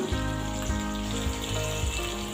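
Mustard paste hitting hot oil with fried tomato in a pan, giving a steady, moderate sizzle and bubbling with soft spattering pops throughout, close by and without talk.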